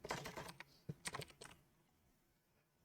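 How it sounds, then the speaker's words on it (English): Someone types on a computer keyboard while wearing gloves, producing quiet soft bursts of muffled key taps in short clusters, then near silence. "I got the gloves on, so I'm typing weird."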